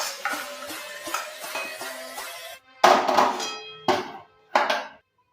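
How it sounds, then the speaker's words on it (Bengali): Fried spices are mixed in a metal bowl while making a semolina fish cutlet: a run of scraping, clinking stirs gives way to several louder, separate clangs of spoon on metal, with no voices. "এই ভাজা মশলাগুলো সব মিশিয়ে নিলাম।"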